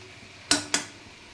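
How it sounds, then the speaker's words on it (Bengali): A spatula knocks twice against the side of a pot while boiled greens are stirred, two sharp metallic clinks close together, against quiet background hiss. "একটু খুন্তি দিয়ে নেড়ে দিলাম"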